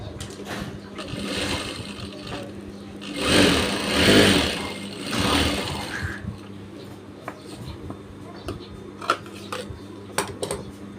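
Sewing machine stitching the folded back pocket of men's trousers, running in a sustained mechanical whir that swells louder in the middle, then stops, leaving small clicks and fabric handling noises.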